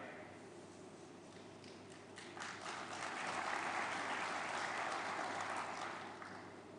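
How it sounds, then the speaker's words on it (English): Applause from a festival audience in Southern Africa swells midway, rising from a quieter patter to a fuller, sustained clapping before easing slightly toward the end, heard from a moderate distance. "I wonder if the applause was from the Southern Africans"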